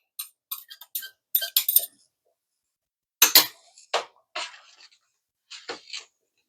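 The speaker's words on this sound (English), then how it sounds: "I'm going to give it a good stir" A spoon stirring gungo pea soup in a metal pot, a series of close, bright clinks and scrapes in short irregular clusters with quiet gaps between.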